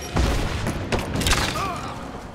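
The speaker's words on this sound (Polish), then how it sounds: "To wybuchło czy nie wybuchło w końcu?" A grenade goes off in Rise of the Tomb Raider as a dense, rumbling blast with crackling debris. It fills the whole moment with low booms and noisy bursts and fades slightly toward the end.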